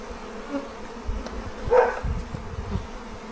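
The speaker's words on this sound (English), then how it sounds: "There's a bee sitting here watching me doing the filming" A bee buzzes close by a backyard Flow Hive, a steady droning hum that swells louder around the middle of the clip, with faint buzzing from other bees behind it and no talking.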